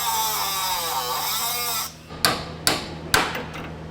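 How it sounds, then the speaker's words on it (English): Three sharp metal hammer blows knock tack-welded nuts out on a Honda S2000, each ringing strike spaced about half a second apart after a steady whining buzz stops. "and then you just hammer them out."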